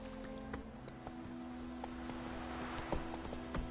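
Roach, Geralt's horse in The Witcher 3 video game, trotting and galloping with steady clip-clop hoofbeats over a continuous low ambient hum, no talk over it.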